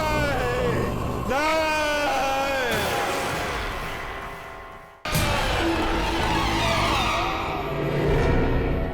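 A man screams inside a hospital morgue in a horror TV drama: loud, long, wavering cries that rise and fall, break off abruptly midway, then give way to another sustained, harsh outcry.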